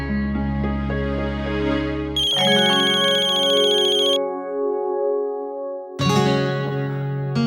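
A mobile phone ringtone plays loud and close, a melodic electronic tune of repeating bright tones that stops and then starts up again.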